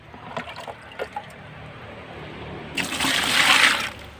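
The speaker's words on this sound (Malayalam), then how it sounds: "ഇനി നമുക്കിതിലേക്ക് 1 ലിറ്റർ വെള്ളം ചേർത്ത് കൊടുക്കുക" A litre of water is poured into an asafoetida mixture for a chilli-plant leaf-curl remedy: a few faint taps and trickles first, then a loud, steady rush of pouring water near the end.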